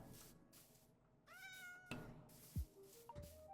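A cat in the video game Minecraft meows several times, with short mewing calls rising and falling over a faint ambient game background and no talk.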